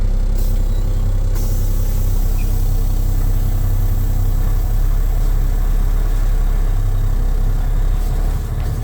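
A truck's diesel engine runs at a loud, steady idle close by for the whole stretch, with a deep even drone and a brief shift in tone near the start.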